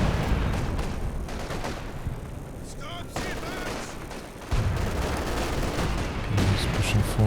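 Dense Company of Heroes 2 battle audio in a 4v4 match, with sustained machine gun bursts and artillery barrage impacts rolling continuously at high volume and no talk over it.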